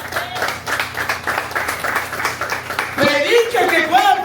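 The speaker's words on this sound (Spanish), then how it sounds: "Haz un aplauso si puede." A crowd breaks into applause near the end, loud claps rising under a voice that keeps speaking over them.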